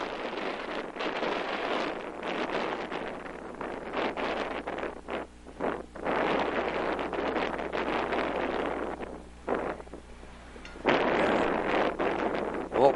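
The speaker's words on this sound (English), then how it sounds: "A little bit of a wind blowing here." Wind gusts across the microphone outdoors at a high school baseball game, a steady, loud rushing buffet that rises and dips in waves for the whole stretch, with no clear talk.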